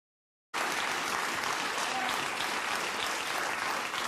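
Applause at a political speech, a sudden burst of dense crowd clapping after a moment of silence, loud and sustained to the end.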